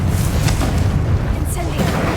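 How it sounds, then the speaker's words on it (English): A Confringo fire spell blasts in Hogwarts Legacy, a dense booming explosion that rumbles throughout with bursts and crackles over continuous game noise. "Confringo!"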